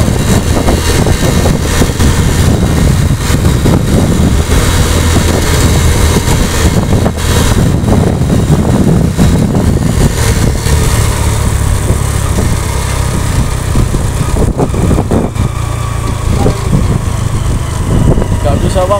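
Motorcycle engines idle and buzz continuously in a long traffic jam on the road, loud and close throughout, with occasional revs rising from the steady drone and people talking now and then.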